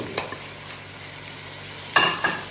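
Mutton boti pieces fry in a pan with a steady low sizzle, broken by a few sharp stirring clatters near the end.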